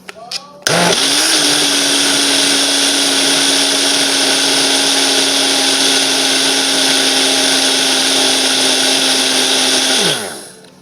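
A Mainstays personal blender starts with a click and runs loud and close at a steady high-pitched whir for about nine seconds before winding down.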